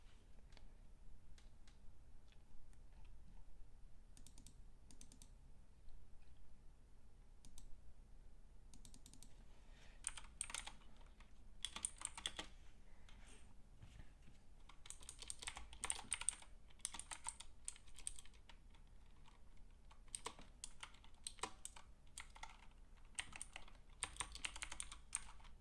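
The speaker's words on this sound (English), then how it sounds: "Just a little bit of typing here." Typing on a computer keyboard, quiet at first and then coming in busy bursts of rapid key clicks with short pauses, close and fairly soft in a quiet room.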